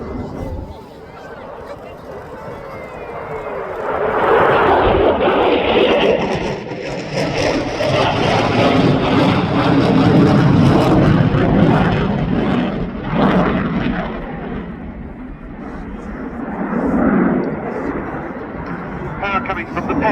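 A fast jet with twin Eurojet EJ200 afterburning turbofans flies an aileron waltz at an RAF Cosford airshow, a loud sustained roar rising and sweeping past, then fading and swelling again, with crowd voices underneath.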